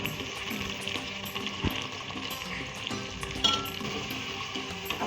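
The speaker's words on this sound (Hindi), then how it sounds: "उसी ऑयल में मैं प्याज शामिल करने लगूँगी" Onions frying in oil left from browning mutton for korma, a steady close sizzle with faint clinks and stirring throughout.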